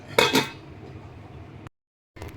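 Two quick metallic clanks of a lid set onto a pot of simmering tea-powder water, followed by a low steady hum, a sudden cut to silence, then the hum returns.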